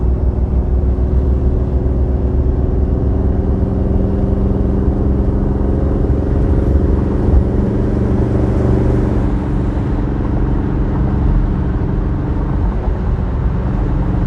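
Classic car engine droning steadily on an interstate highway, with a loud, continuous low rumble and road noise throughout.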